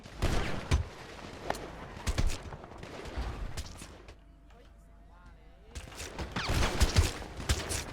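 Rapid bursts of GTA V gunfire crackle in dense clusters, with a quieter lull in the middle, while excited voices shout over the shooting.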